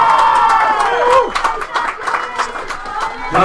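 Crowd noise at a women's rugby match in the Farah Palmer Cup, Waikato versus Counties Manukau, with cheering, claps and chatter under a commentator's voice.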